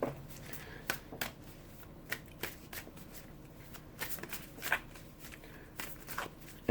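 Tarot cards being shuffled by hand, a run of crisp riffling bursts and soft slaps repeating irregularly, close and fairly quiet over a low room hum.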